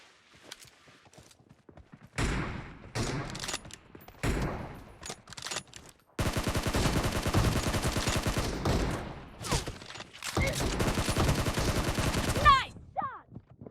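Bursts of PUBG gunfire, rapid automatic volleys and single shots in several loud clusters separated by brief quiet gaps, with some game voice heard between the shots.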